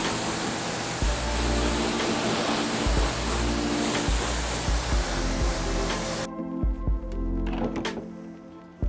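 A steady, loud rush of spraying water rinsing detailer residue off car paint hisses for about six seconds, then cuts off, leaving quieter drips and small knocks.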